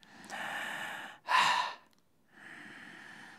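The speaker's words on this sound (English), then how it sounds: "we're just breathing into this chest area here" A person demonstrates shallow chest breathing: a slow breathy inhale, a sharper louder exhale, a pause, then another soft inhale, close and alone.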